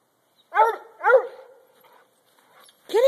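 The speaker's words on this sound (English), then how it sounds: "It's the woodpecker that he has to bark at." A pitbull barking at a woodpecker, with two loud, close barks in quick succession, a softer trailing whine, then another bark starting at the end; no talk.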